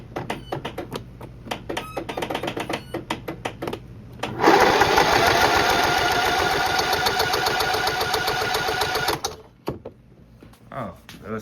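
A Toro LX 427 riding mower engine runs with a low throttle setting, first sputtering unevenly in rapid pulses, then rising into a loud, steady buzzing drone for several seconds before dropping back, with a person talking over it.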